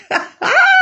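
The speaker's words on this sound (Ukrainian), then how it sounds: "Це пес гавкає. Собака гавкає." Dog barking nearby, a sharp yip followed by a longer, loud whining bark, heard without talk.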